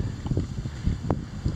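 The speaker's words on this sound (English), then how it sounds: "I'm sorry about the wind." Wind buffeting a microphone outdoors during a metal detecting hunt, a steady low rumble with irregular gusty thumps running throughout.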